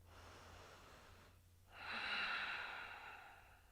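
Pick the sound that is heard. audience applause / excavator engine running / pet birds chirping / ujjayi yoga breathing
ujjayi yoga breathing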